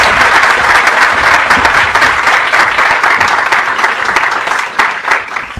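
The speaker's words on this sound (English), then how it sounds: "please join me in giving a warm round of applause to our distinguished guest speaker, Mr. Rahul Gandhi." A lecture-hall audience at the Hertie School gives a warm round of applause for a guest speaker, Rahul Gandhi: dense, steady clapping from many hands that holds strong throughout and starts to thin slightly near the end.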